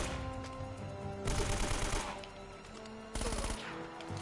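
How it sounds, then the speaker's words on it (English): AK rifle fire in the action game Uncharted, two sustained automatic bursts of rapid shots over game background sound, with no talking. "Let's use the AK for a second."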